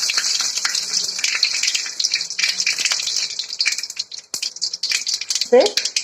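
Mustard seeds, curry leaves and a bay leaf sizzling in hot oil in a pan, giving a steady bright hiss with crackles and spits, and a voice speaking over it near the end.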